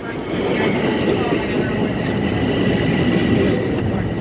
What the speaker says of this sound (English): Now arriving on track 1, platform A, is the 1:56 p.m. train to Penn Station.